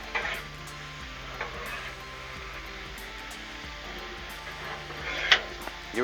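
Shrimp, butter and vegetables sizzle on a Blackstone flat-top griddle while a spatula stirs them, giving a steady sizzle broken by scraping clicks and a sharper metallic scrape near the end.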